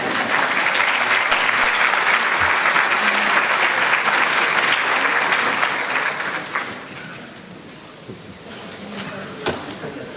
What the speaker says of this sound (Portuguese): Sr. Professor, estão com receio de bater palmas